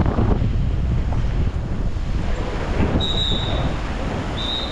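A storm-swollen stream floods at Grota da Cadima in Vila de Capelas, its water rushing in a loud, steady roar mixed with wind buffeting the microphone.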